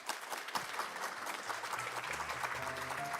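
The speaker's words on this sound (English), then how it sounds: "Please join me in giving them a round of applause." Audience applause for conference panelists at the HCCH Asia Pacific Week in Seoul, a steady, dense patter of many hands clapping that holds evenly throughout, with some faint tonal sounds near the end.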